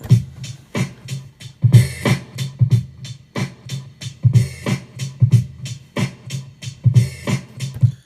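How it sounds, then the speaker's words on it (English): A chopped boom bap drum loop plays back, punchy kicks and snappy hits repeating in a steady, slightly choppy groove with no voices. "now I got the drum loop down"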